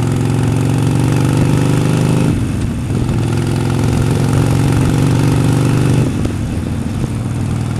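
A Harley-Davidson Sportster motorcycle engine idles loud and close with a steady low throbbing rumble, dipping briefly in pitch twice before settling back into its lumpy idle.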